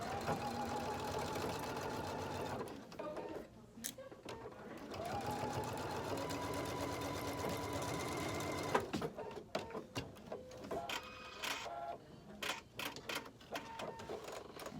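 A sewing machine runs in fast rhythmic bursts stitching a half-inch seam on the lining and outside of a cork handbag, whirring steadily then stopping and starting in short runs near the end.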